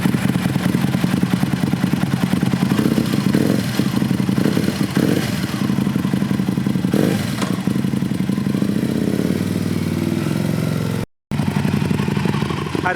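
An Aprilia RSV Mille SP motorcycle is ridden, its loud engine droning and revving steadily close by throughout, with a brief drop in the sound near the end.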